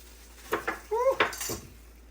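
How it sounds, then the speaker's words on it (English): A spoon scrapes and clinks against a pot while cornstarch slurry for bok choy soup with shrimp is stirred, a few quick close scraping strokes and a ringing clink at a low level. "Always stir up your slurry when you have the cornstarch and water or any liquid."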